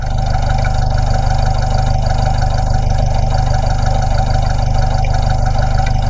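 A used car engine idles steadily while leaking oil, a continuous loud hum with a faint rhythmic knock running through it and no talking.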